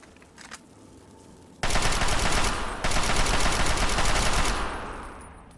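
Sustained automatic gunfire from the Fallout 3 video game, a dense rapid burst that starts abruptly after a few faint shots, loud and continuous with a brief dip, then tails off.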